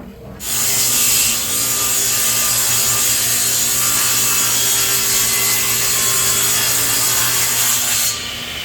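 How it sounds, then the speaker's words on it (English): A table saw ripping through a 3/4 inch cabinet back panel during a cabinet base build, a loud sustained whining cut that starts sharply and runs steadily for several seconds before easing off. "Running this through the table saw and then flipping it and running it to the other side"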